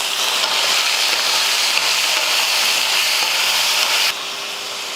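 Tomatoes and mixed vegetables sautéing in a pot for one-pot lunchbox rice: a steady, dense sizzle and hiss held close and even, dropping to a softer frying sound for the final second.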